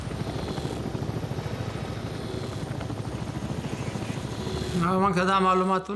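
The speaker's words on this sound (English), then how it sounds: "Everyone knew that a helicopter had landed in the night." A helicopter's rotor thumps rapidly and steadily throughout, loud and close, with a rising whine of engine tones near the end.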